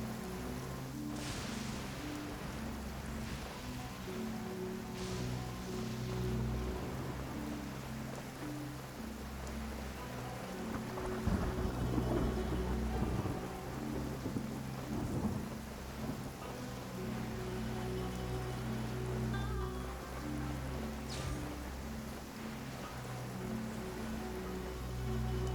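In the video game Genshin Impact, a thunderstorm rolls on with steady heavy rain, lightning cracks and rumbling thunder swelling midway, with no voices.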